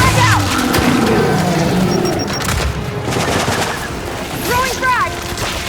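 Gears 5 combat: a frag grenade blast amid heavy rapid gunfire, loud and close, with continuous bursts, booms and shouting voices layered over the chaotic battle.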